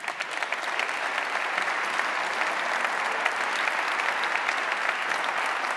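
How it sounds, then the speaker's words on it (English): Warm audience applause for Hubert Burda at the DLD15 conference, a dense, steady wash of many hands clapping that holds at an even level throughout. "very warm applause for Mr. Hubert Burda"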